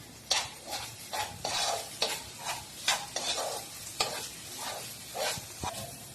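Onions and potatoes fry in a pan while being cooked for egg and potato bhurji, a close, steady sizzle punctuated by repeated scraping strokes of a spoon stirring roughly every half second, with no voices.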